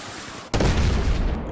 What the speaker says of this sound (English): that artillery should have that guy into pulp